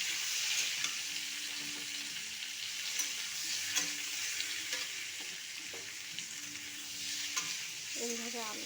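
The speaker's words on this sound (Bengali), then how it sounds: "এইভাবে আলুটাকে একটু হালকা করে ভেজে নেব" Boiled potatoes frying in mustard oil in a kadai: a continuous bright sizzle, close and steady, with light stirring clinks near the end.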